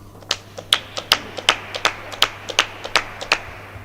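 Spectators at a real tennis match at the British Open clap in a sparse, uneven patter of individual sharp hand claps, fairly close and separate from one another, spread over about four seconds.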